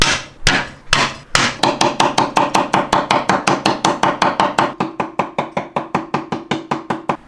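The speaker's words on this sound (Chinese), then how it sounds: "剁点蒜泥" A knife chops garlic into paste on a board in fast, steady, even knocks, dozens of sharp close strikes in a continuous rhythm after a few slower opening blows.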